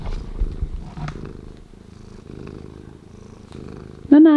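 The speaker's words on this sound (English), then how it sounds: "Listen to that purr." A cat purrs steadily and close by in a rhythmic low rumble that runs almost the whole clip, with a brief louder tonal sound, like a short meow or voice, right at the end.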